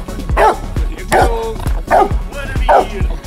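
A police dog barks loudly and close during a crowd disturbance, four sharp barks about every 0.8 seconds, with shouting voices around them.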